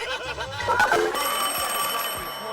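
A telephone rings in a barber shop during a prank call, a brief bright ring with faint snickering laughter around it.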